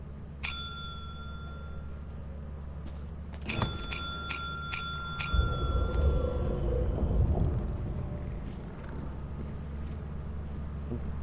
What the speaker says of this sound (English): I want you to ring this bell a couple times.